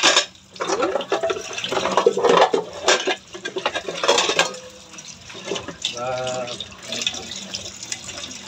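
Dishes being washed at a sink, with running tap water, splashes and clinks of plates coming in uneven bursts, close and fairly loud.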